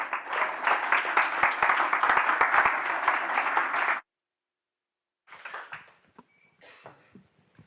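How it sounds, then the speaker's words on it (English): An audience applauds loudly for about four seconds, then it cuts off; after a pause, scattered fainter clapping and shuffling noises follow. "So big applause to Gary Pollock."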